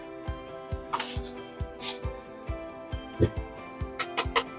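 A couple of short hissing spray bursts from a spray bottle while winterizing an RV, with a few quicker spritzes later, over a steady rhythmic thumping in the background.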